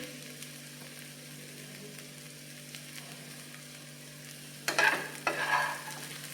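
Paneer pulao sautéing in a pan makes a quiet steady sizzle, then a spatula stirs it briefly with close scraping and clinking toward the end, with no voices.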